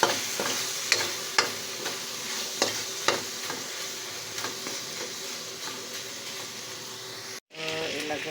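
Sautéing for ginisang ampalaya in a pan, with a steady close sizzle and repeated sharp clacks of a utensil stirring against the pan, ending in a brief cut before the frying noise resumes.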